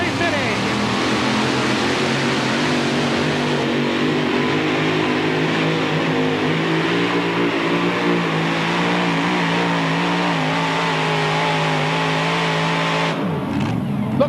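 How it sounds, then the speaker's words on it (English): A modified mini race car powered by a 540 cubic inch Aries engine making about 2,000 horsepower roars steadily at a 2003 vintage race in Connersville, Indiana, its loud engine note holding and shifting throughout under an announcer's commentary. "540 cubic inch Aries powering this modified mini."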